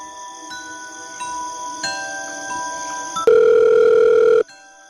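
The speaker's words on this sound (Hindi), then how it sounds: "फोन लगाओ अक्षय को." A telephone ringback tone sounds in steady electronic beeps, then a louder sustained tone cuts off abruptly; no one speaks.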